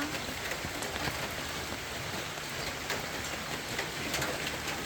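Steady rain pours down on a small home garden with potted plants, including a dragon fruit plant, making a dense, even hiss of drops on surfaces that continues without pause.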